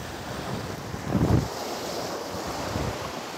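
Sea waves wash onto an Algerian beach, a soft surge swelling once mid-clip amid steady wind buffeting the microphone, with no voices.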